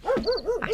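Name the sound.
dogs barking at night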